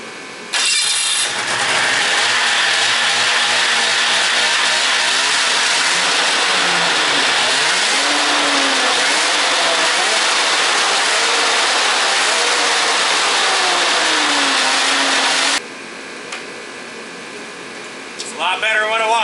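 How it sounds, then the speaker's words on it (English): A snowmobile engine, primed a few times beforehand, catches and starts, then idles and revs loudly and steadily for a long stretch before dropping to a quieter idle near the end, close up. "this snowmobile, you got to prime it a few times"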